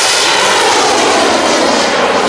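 A Skymaster F-16 G2 model jet's turbine engine roars loud and close at the Jet Power 2012 model aircraft meet, a dense, steady, broadband whoosh with no pauses.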